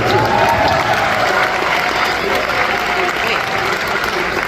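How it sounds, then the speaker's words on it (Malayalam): An Onam celebration audience in New Jersey applauds a first-prize contest winner, with loud, dense clapping from a large crowd sustained evenly across the whole stretch, and voices mixed in. "അതനുസരിച്ച് നല്ല കൈയടി കൊടുക്കാം."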